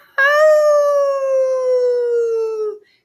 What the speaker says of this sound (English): There's the coyote howl.